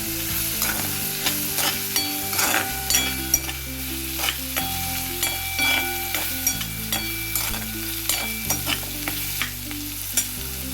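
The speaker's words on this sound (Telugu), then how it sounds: "ఇప్పుడు చూసారా, వెల్లుల్లిపాయ దొండకాయ ఉల్లిపాయ అన్నీ వేగిపోయింది" Garlic, ivy gourd and onion frying together in a pan, a loud close sizzle with repeated spatula scrapes and knocks at an uneven rhythm, a low hum underneath.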